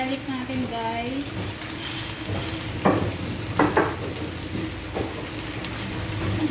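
Chicken frying lightly in a pan for a garlic soy sauce dish, a steady sizzle under a voice talking, with a few sharper clatters of stirring partway through.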